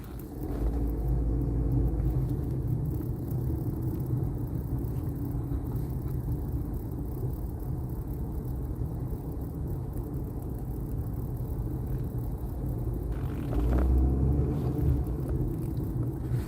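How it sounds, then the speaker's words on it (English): Steady road traffic rumbling past, a continuous low car and engine drone that swells slightly near the end, with no talking over it. "All this traffic."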